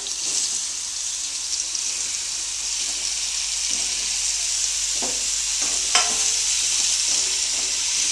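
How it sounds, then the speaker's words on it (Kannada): Cut mushrooms hit about two tablespoons of hot oil in a pan, sending up a steady, loud sizzle throughout, with several soft stirring scrapes and knocks close by. "ಅದೇ ಪ್ಯಾನ್ಗೆ ಒಂದು ಸ್ವಲ್ಪ ಒಂದು ಎರಡು ಟೇಬಲ್ ಸ್ಪೂನಷ್ಟು ಎಣ್ಣೆ ಹಾಕಿದ್ದೀನಿ ಈಗ ಕಟ್ ಮಾಡಿ ಇಟ್ಕೊಂಡಿರೋಂಥ ಮಶ್ರೂಮ್ ಹಾಕ್ತಾಯಿದ್ದೀನಿ"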